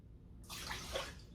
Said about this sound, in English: So now we're gonna add our cup of water